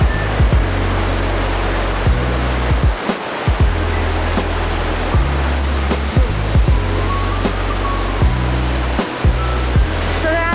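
Waterfall at El Chiflon, Mexico, roaring as a steady, dense wash of falling water that stays loud and unbroken throughout, with a few low thumps mixed in.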